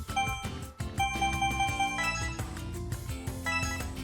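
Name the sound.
phone notification sound in video game Hakuoki SSL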